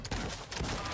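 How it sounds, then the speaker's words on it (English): Dense rapid gunfire from a battle royale shooter, Apex Legends-style combat with a Bangalore character, packs a brief second with loud overlapping shots, with no talk. "I've shot this guy so many times."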